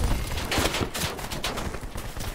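Rapid bursts of gunfire in a Black Ops 4 multiplayer match, loud and close, with overlapping shots and impacts packed into a couple of seconds.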